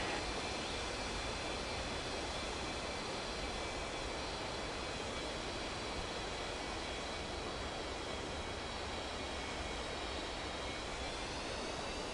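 Airliner taking off from runway 27 in an air traffic control video game, a steady, loud engine roar that holds evenly throughout without any talk.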